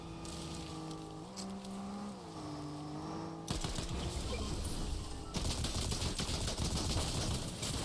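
Rapid gunfire bursts in a video game during a sniping attempt, loud crackling volleys arriving in two dense stretches after a steadier engine-like drone, with no talk over them.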